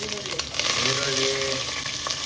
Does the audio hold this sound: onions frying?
yes